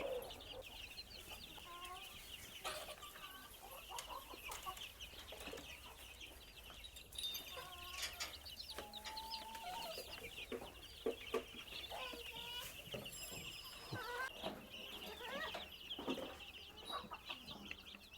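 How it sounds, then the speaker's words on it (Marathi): Native country chickens on a poultry farm cluck steadily in the morning while waiting for feed, a busy flock chorus with occasional sharper calls, moderately close over a faint background hiss. "पक्षी आपली वाट बघत आहे"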